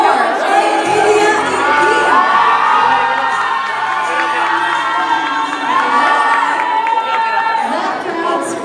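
A pageant crowd screams and cheers continuously, loud and close, with shrill whoops and high voices piling into a dense roar that never lets up.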